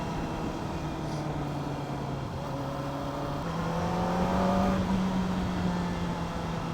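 A superbike cruises on a night ride, its steady engine drone holding pitch and then stepping up as it accelerates, close and continuous with no talk.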